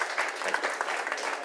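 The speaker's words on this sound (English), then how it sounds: "Big round of applause to the judges." Audience applause for the judges at the UK Barista Championship 2023 regional heat in Cardiff: a dense, steady wash of many hands clapping at close range, with no gaps across the whole stretch.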